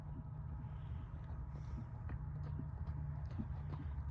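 Horse hooves clip-clopping in a steady walking rhythm at a safety-training playground, moderately near over a constant low rumble of background noise.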